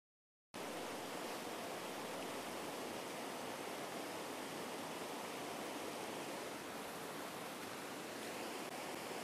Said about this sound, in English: Here in the Alps, where the water has only traveled a few kilometers, the river is still very steep